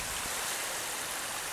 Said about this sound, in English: the water's lapping at my feet.